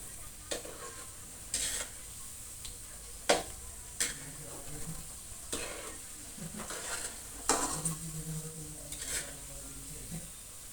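Banana slices fry with sugar in a pan to make Filipino bananacue, giving a soft constant sizzle broken by repeated clinks and scrapes of a utensil stirring against the pan.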